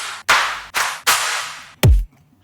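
Layered dubstep drum samples sound alone: a few loud, noisy snappy hits built from stacked claps, then a deep booming kick with a falling low thump.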